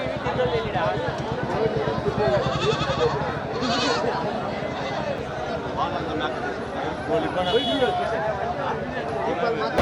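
Goats bleat repeatedly among a crowd at the Karimangalam livestock market, their calls mixed into steady close conversation and bustling background chatter.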